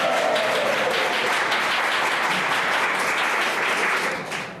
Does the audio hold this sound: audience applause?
yes